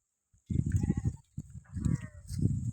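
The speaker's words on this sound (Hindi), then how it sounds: "तो गाइस देख सकते हैं कितना प्यारा भेड़ है।" Sheep bleat close by in short repeated bursts that come in three clusters, with a faint steady tone in the background.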